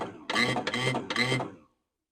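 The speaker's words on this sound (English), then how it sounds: "it sounds to me like the starter is spinning, but it's not engaging up in the flywheel" A starter on a cheap lawnmower whirs in three quick mechanical bursts, spinning without catching the flywheel, close and clear before cutting to silence.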